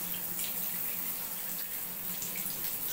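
Water runs steadily from a tap over a cockatiel being bathed, a soft, continuous hiss and splash without pause.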